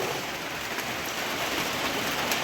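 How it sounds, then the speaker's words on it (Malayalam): Steady, dense rainfall pours down close by, a continuous hiss of heavy rain on surfaces with no voices. "നല്ല മഴ"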